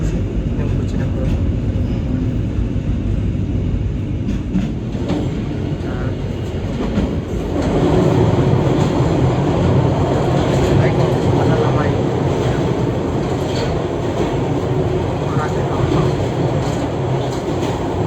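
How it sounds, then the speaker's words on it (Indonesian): The Sembrani passenger train rumbles and clatters heavily into Bojonegoro station, Indonesia, the low mechanical roar swelling partway through and staying loud to the end. "perjalanan kereta api Sembrani telah tiba dan berhenti di stasiun Bojonegoro"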